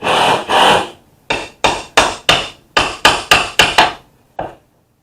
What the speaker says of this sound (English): now I'm going to start removing this molding